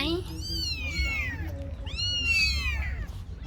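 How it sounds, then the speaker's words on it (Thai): A street cat gives two drawn-out, rising-and-falling meows, close and clear over a low background rumble. "แมวข้างถนนน่ะ"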